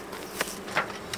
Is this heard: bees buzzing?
yes